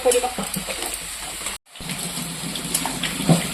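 Water poured into a pan of fish being cooked, a steady splashing sizzle with stirring scrapes running throughout, near and fairly loud, briefly cut to silence midway.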